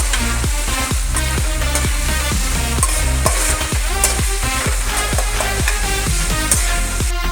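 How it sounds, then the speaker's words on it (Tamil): Onions sautéing in a pan for a village-style South Indian crab masala, giving a loud, close, continuous sizzle with a rapid run of metallic stirring clicks and scrapes, and no voices. "வெங்காயம் போட்டு நல்லா பொன்னிறமாக வதக்கிக்கலாம்."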